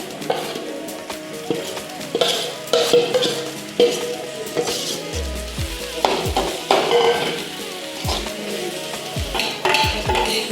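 Mashed potatoes stirred and frying in a hot pan, with steady sizzling and repeated scraping of a spoon against the pan, fairly close and busy, with occasional clinks of utensils and no talk.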